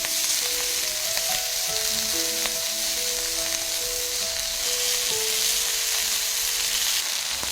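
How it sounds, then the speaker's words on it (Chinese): Slices of pork belly fry in a pan of hot lard, giving a steady, close crackling sizzle with a faint tonal hum running through it; no one speaks. "你以为是这几片煎得特别诱人的五花肉吗？"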